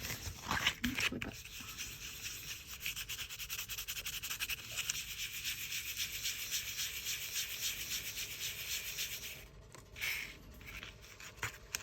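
Paper and sandpaper rub back and forth over polymer clay in a steady, close, dry scratching that runs for several seconds, stops briefly, then resumes more faintly, with no talking.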